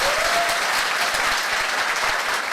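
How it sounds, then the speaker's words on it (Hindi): Steady, dense applause from a large audience at a motivational seminar, loud and continuous throughout with no talking over it. "ताली मर्दों वाली बजाइए"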